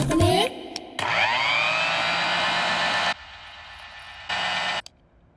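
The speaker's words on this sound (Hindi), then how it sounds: "एक बार मिक्सर ऑन करके सुनाइए" A kitchen mixer grinder whirs loudly and steadily close by, starting with a rising spin-up, running for a couple of seconds, cutting out, then briefly switching on again before stopping.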